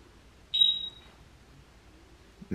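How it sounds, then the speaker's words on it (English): A basement smoke detector lets out one loud, shrill beep of about half a second, then falls quiet. "That's this freaking smoke detector."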